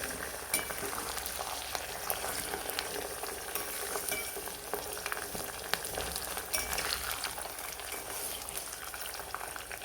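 Aloe vera pieces frying in homemade herbal hair oil over a low gas flame, giving a steady, dense sizzle and bubbling that runs unbroken and fairly close throughout, with no talking.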